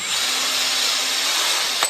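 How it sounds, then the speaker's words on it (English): A power drill spins a small piece of sandpaper on its bit to scour the inside of a metal aircraft flaperon tube before welding. The whine is loud, steady and continuous, with a brief knock near the end and no talk. "It's just a little piece of sandpaper on a drill bit."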